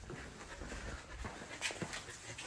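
A Golden Retriever panting softly near a doggy door, a faint continuous rhythmic breathing over a quiet indoor background, with no voices.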